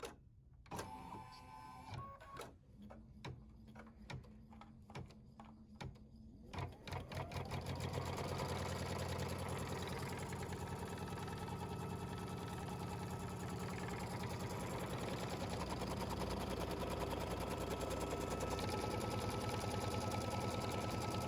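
An embroidery machine threaded with matte thread stitches the fabric placement line of a Christmas applique design. It starts with a few sparse clicks, then settles into a loud, steady, rapid mechanical whirr that runs continuously to the end.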